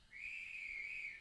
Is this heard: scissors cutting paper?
no